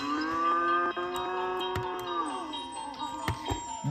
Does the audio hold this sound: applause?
no